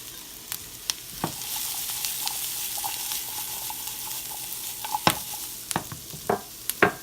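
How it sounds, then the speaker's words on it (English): Vegetables sizzle steadily in a hot pan, close up, with occasional sharp clinks and scrapes from stirring breaking through the constant frying hiss. "Now let's go ahead and add those vegetables in."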